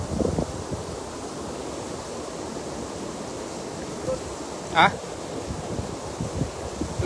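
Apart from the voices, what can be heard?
strong wind by the water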